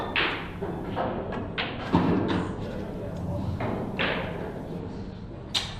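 Pool balls knock together in a sharp series of clicks and thuds as an eight-ball match in the 2025 Champions League closes on the final shot onto the 8-ball, with commentators talking over them.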